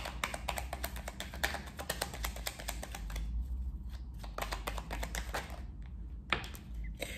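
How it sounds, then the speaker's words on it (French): Tarot cards are handled and laid out on a table, giving a quick run of soft flicks and taps, then sparse slides and a single louder snap, close and quiet with no talking. "Je vais recouvrir certaines cartes."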